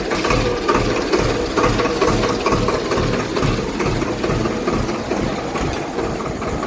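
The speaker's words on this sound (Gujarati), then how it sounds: "થઈ ગયું હો. ટ્રેક્ટર ચાલુ." A tractor engine idles after a bearing repair, with a steady, loud, close diesel rumble and a rapid knocking pulse that holds unchanged throughout.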